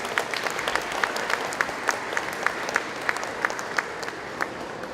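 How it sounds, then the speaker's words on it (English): Scattered audience applause at an outdoor community celebration in Ottawa, a steady wash of clapping with a few sharp individual claps standing out at a regular pace. "Round of applause, please."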